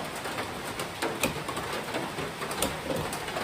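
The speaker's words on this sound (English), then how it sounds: "You can hear the rain hitting the garage." Steady patter of rain drumming on a tin garage roof, a dense continuous hiss with occasional louder drops, no voices.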